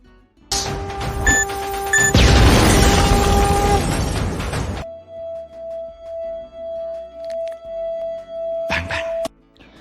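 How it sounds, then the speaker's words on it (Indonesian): Bombs exploding in an action film, a sudden loud roaring blast burst with crashing debris, followed by a quieter stretch of pulsing tones and a final short burst. "Bom di sana mulai meledak."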